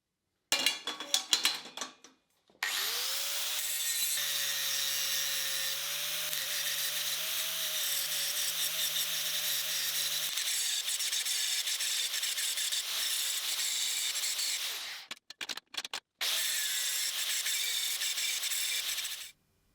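Angle grinder grinding a weld off a steel railing flange, a loud high whine that runs for long stretches and drops in pitch under load, stopping and restarting in short bursts near the end.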